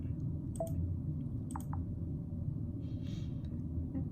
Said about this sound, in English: You'll hear an audible sound like a click click